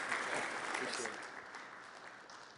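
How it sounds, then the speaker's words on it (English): A warm round of applause from an audience for a speaker on high-growth digital agencies, a continuous wash of clapping heard at a distance and fading slightly toward the end. "warm round of applause for Jeff Tomlin"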